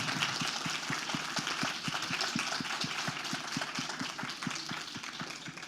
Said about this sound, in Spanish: Un aplauso por favor para ellas.